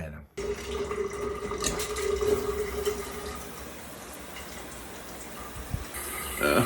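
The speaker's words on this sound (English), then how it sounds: "go have a cold shower as well" A cold shower runs as a steady, close hiss of water from just after the start to the end, with a brief pause near the beginning. A voice is faintly heard under the spray.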